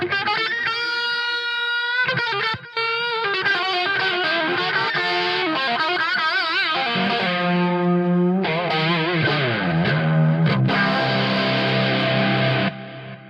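Electric guitar runs through the Genome amp sim plugin with a boost, giving a distorted, sustained tone that plays bent notes and chords, loud and alone with no talking.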